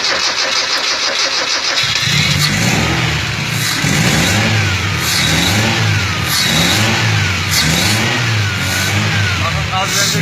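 A Mazda Lantis 1.8 fitted with an aftermarket engine control unit cranks briefly and fires, then settles into a loud, steady idle close by, with a voice talking over it.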